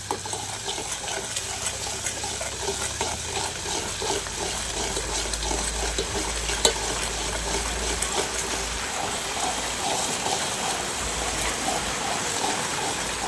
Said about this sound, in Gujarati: તો હવે સડવા દઉં ઘડી.